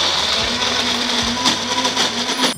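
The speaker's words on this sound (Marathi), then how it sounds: "आता पाण्याचा अजिबात वापर न करता मिक्सरमध्ये याची छान प्युरी तयार करून घेऊयात." A mixer grinder purees a cooled spice mixture without water, its motor whirring loudly and continuously close by, with pitch dips as the blades catch the thick paste.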